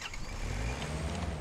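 A car engine idling in the hunting game Way of the Hunter, a steady low rumble with a rough throaty texture, close and even for a brief moment, no speech.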